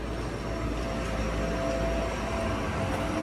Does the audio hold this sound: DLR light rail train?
yes